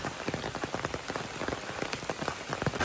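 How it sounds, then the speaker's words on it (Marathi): Heavy rain pours down steadily, with dense drops pattering hard on nearby surfaces and no voices. "पाऊस पडतोय जोरात"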